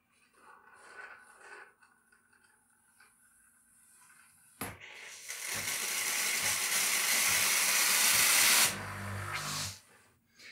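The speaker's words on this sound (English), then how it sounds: "push the steam button and let the steam flower for a few seconds" Steam from the wand of a De'Longhi La Specialista Arte espresso machine: a small mechanical click, then a loud, steady broadband hiss of several seconds that cuts off with a short low sputter.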